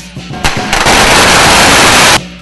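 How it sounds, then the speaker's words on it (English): A long string of firecrackers at a Chinese New Year festival street celebration crackles in a dense, loud, rapid burst for about two seconds before cutting off. "The third annual Chinese New Year Festival, the Year of the Snake, rang in the new with firecrackers."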